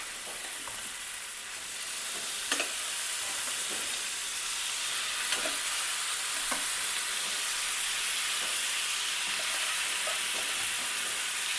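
Paneer pieces spread in a hot pan and frying in a little oil, a soft steady sizzle and hiss with occasional light clicks of a utensil, no talking.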